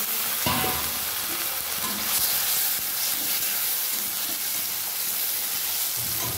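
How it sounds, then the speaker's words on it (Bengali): Chopped tomato added to a frying spice paste in a pan, a loud continuous sizzle and hiss with occasional stirring scrapes. "হালকা একটু ভাজা হলে আমি টমেটো কুচিটা দিয়ে দেবো।"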